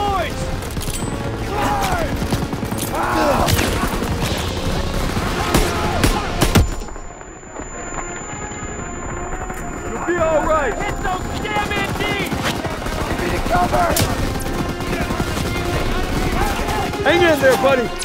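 Rapid machine gun fire and explosions fill a World War II battle in the Call of Duty WWII video game, loud and dense with a short lull in the middle, while voices shout over the gunfire.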